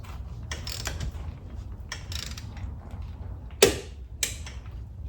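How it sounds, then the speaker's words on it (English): Capri Tools half-inch flex-head split beam torque wrench tightening car lug nuts, giving a few soft ratcheting creaks and two sharp clicks near the end, fairly close and quiet. "now I got to torque the lug nuts on here"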